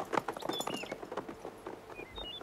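Horses' hooves clip-clop in an irregular patter at moderate distance in a 1931 Arizona drama scene, steady throughout the short stretch with no voices over it.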